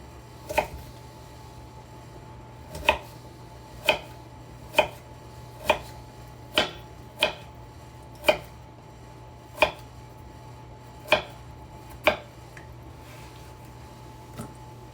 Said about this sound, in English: I'm gonna just cut these into small pieces, add them into the apples